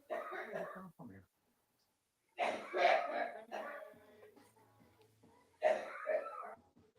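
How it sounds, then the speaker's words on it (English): A few harsh coughs in separate bursts, fairly close, with gaps of quiet between them and some voice-like sounds mixed in. "Who's coughing?"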